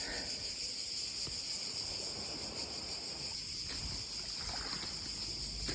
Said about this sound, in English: You can hear all the cicadas